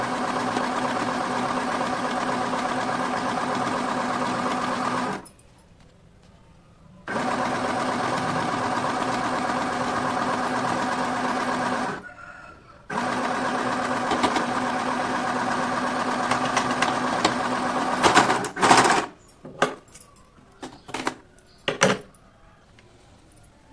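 An electric sewing machine stitches a salwar top, running in steady motor-driven bursts with short pauses between seams, then ending in quicker stop-start stitching and handling clatter, close and fairly loud.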